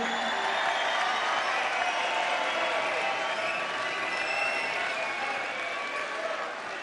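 Dense, steady cheering and applause from a large darts arena crowd at a World Series final, filling the whole stretch at even loudness without a break.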